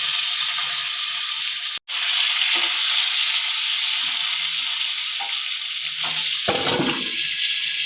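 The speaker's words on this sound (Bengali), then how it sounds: "এবার আমরা আলুটাকে ভেজে আলু আমি মাঝারি আছে একটু ঢাকা দিয়েই ভাজবো" Medium-sized potato pieces fry in a covered pan, giving a loud, constant close sizzle with a brief dropout and a few soft clatters, no speech.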